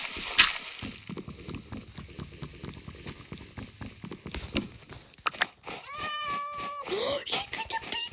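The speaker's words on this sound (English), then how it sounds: "Look at the baby cat!" A baby cat meows a few times amid ongoing indoor clatter and talking, the thin cries coming and going under the voices and handling noises.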